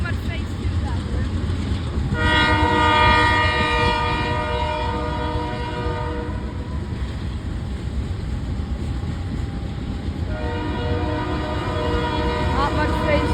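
Union Pacific train led by a GE locomotive passing close by, loud continuous rumble with long horn blasts at the start and again later, a voice briefly heard.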